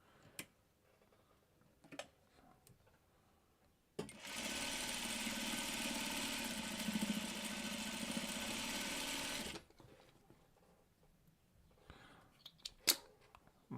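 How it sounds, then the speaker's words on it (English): A sewing machine runs steadily for about five seconds while stitching the middle strip of a quilt block, preceded and followed by quiet handling clicks and taps. "Okay, sewing on the middle strip there."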